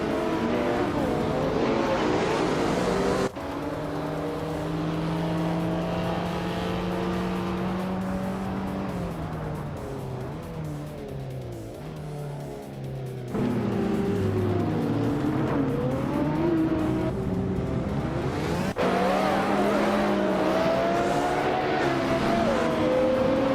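Race cars, among them a 2006 Porsche Cayman S, lapping the Seattle circuit: sustained engine drone with rising and falling revs and gear changes, steady and fairly loud with no talk over it.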